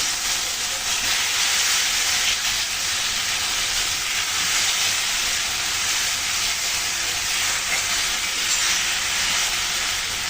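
Spice paste hitting hot oil in a pan with fried teasel gourd and potatoes, giving a loud, steady, broadband sizzle and hiss that holds unbroken throughout.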